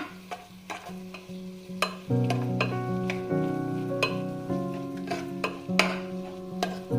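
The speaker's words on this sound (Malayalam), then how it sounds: "ഇത് നന്നായിട്ടൊന്ന് വഴറ്റി കൊടുക്കണം." Small cut tomato pieces are stirred and sautéed in a pressure cooker for beef biryani, with steady sizzling and repeated scraping clinks of a spoon against the metal pot, close and continuous.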